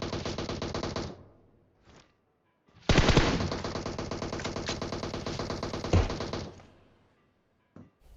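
Gunfire from PUBG Mobile comes in two loud, rapid bursts of repeated shots, a short one at the start and a longer one after a brief pause, followed by a few faint isolated clicks.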